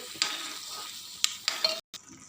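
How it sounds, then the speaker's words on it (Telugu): A few scraping strokes of a utensil stirring vermicelli in a pot of boiling water, with a quiet bubbling sizzle beneath, close and fairly soft. "ఇలా మరుగుతున్న దాంట్లో ఇందాక మనం వేయించి పెట్టుకున్న సేమియా వేసుకొని బాగా కలుపుకోవాలి"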